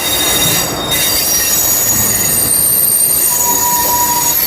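A local train runs along a short route near Howrah, bypassing Belur station, its wheels squealing with a steady rolling rumble and a high metallic whine throughout, loud and close.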